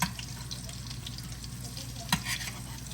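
Salmon croquettes sizzle steadily in a frying pan as they are flipped, with a soft continuous crackle and a brief sharp clatter partway through.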